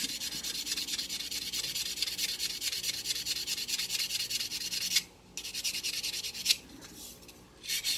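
A wooden arrow shaft is rubbed and sanded by hand in a steady, close, continuous rasping scrape, with brief pauses near the end before the rubbing resumes.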